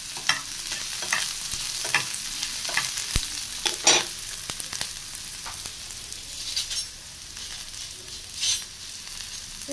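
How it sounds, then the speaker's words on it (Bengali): Chopped onion frying in hot oil in a pan, a steady close sizzle with crackling pops and occasional stirring scrapes, no voices. "পেঁয়াজটা ভাজা ভাজা হোক।"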